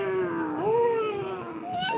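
A boy imitates a cat's meow, one drawn-out, wavering mew sung close up, rising and falling in pitch.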